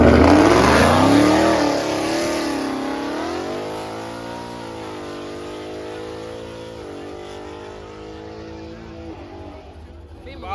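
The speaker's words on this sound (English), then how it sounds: "That's how a Beamer supposed to sound." BMW car engine at a race day in Mexico, a loud near rev that sweeps up and falls, then holds a throaty drone that fades away, with voices talking over it.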